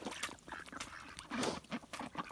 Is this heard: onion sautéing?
no